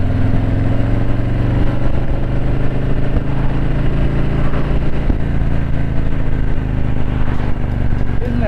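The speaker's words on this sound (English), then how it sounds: "There's nothing like a Harley V-Twin revving up, even if it's just for a few seconds" A Harley-Davidson Street Glide V-Twin engine runs loud and close, a thick, rumbling low roar that swells and eases as it revs.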